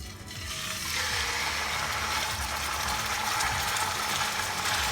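Beef browning in hot oil over high heat for nihari, a loud steady sizzle with crackling spits, continuous and close.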